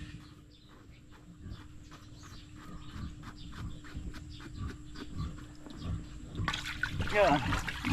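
Water flowing from a concrete pond into an earth pond for catfish, a steady low trickle and wash heard close by, growing louder toward the end.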